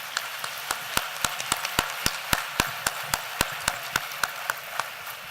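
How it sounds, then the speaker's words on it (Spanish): A few people clap for the speakers at an academic panel session, giving sharp, evenly spaced claps in a steady rhythm, fairly close, with no talk over them. "un fuerte aplauso para ellas"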